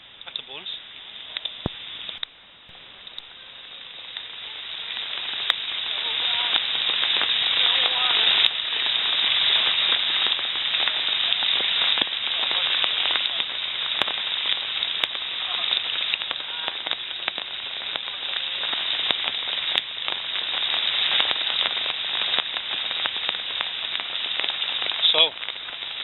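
Rain pours onto an outdoor shelter after hours of downpour, a dense crackling patter that swells and stays steady, with sharper drips and taps standing out close by.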